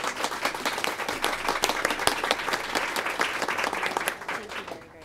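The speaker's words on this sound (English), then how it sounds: "I'd just like to give you a round of applause for all your help." Meeting attendees at a state board meeting give a warm round of applause, dense clapping from a room full of people that holds steady, then fades at the end.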